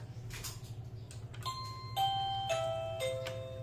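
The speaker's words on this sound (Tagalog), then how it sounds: "Ano yun? Doorbell." A home doorbell chimes a short series of clear, descending tones, each ringing out and overlapping the next, over faint household background noise.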